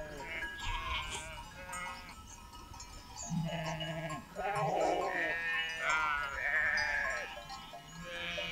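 Sheep bleating repeatedly in a Turkish countryside setting, several wavering calls from nearby animals overlapping across the clip with a busy outdoor background.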